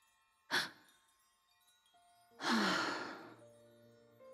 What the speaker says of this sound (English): Why are you heavy breathing?